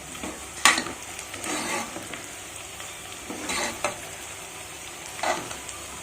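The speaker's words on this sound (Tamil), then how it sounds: "50 கிராம் பூண்டு, கருவேப்பிலை சேர்த்து நல்லா வதக்கிக்கோங்க." Garlic and curry leaves sautéing in a pan, a soft continuous sizzle punctuated by several sharp spatula scrapes and clatters at irregular intervals, close and with no voices.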